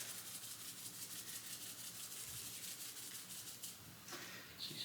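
A salt, pepper and garlic seasoning blend is rubbed onto chicken, giving a faint, continuous close-up scratchy rubbing under a low background hiss, with no voices.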